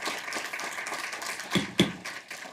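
Audience applause at a Pinellas County school board meeting: a dense, steady wash of clapping across the room, with two sharper thumps near the end.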